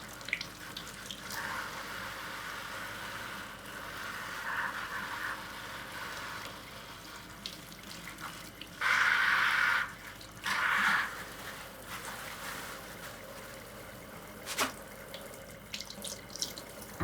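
Plant leaves washed under a running tap at a sink for a bioactive vivarium, a steady low stream of water with two louder gushing bursts midway, close by and with no talking.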